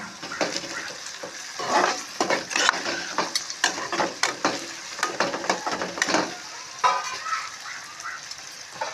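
Chopped tomatoes cooking with onions in a pan for a cashew mushroom curry: a continuous sizzle broken by frequent spatula scrapes and clinks against the pan, close and busy.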